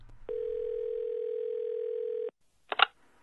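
Telephone dial tone heard while calling an IT department: one steady, clean tone holds for about two seconds and then cuts off, followed by a brief clattering noise, with no talking.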